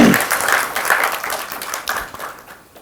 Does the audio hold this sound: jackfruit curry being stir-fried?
no